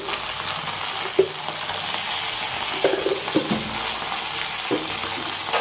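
Okra fries in a pan with salt and turmeric, a steady close sizzle broken by several sharp clinks and scrapes of stirring, with no talking.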